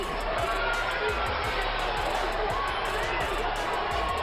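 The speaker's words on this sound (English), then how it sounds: "Crowd here in Las Vegas behind Bam Bam." A large Las Vegas boxing crowd cheers for Brandon Rios in a steady, dense roar of voices and noise that never lets up, with a commentator talking over it.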